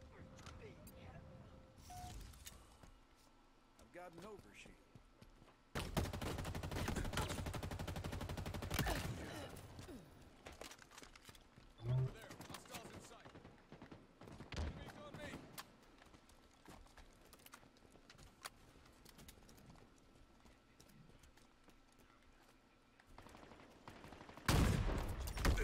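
Needler fire in Halo Infinite, a dense burst of rapid shots breaking out after a quieter stretch, followed by scattered weapon sounds and impacts, fairly distant and faint, with a player talking intermittently.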